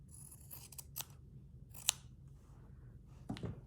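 Scissors trimming fabric and lace for a stitched postcard, a few soft, sharp snips close by spaced out over a quiet background, with no talking.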